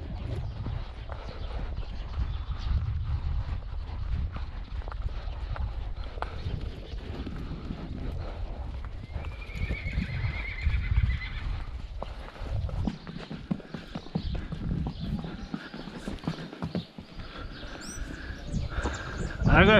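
Hooves of a Quarter Horse mare clip-clop rapidly on the ground as she runs, with a brief whinny and faint voices in the background.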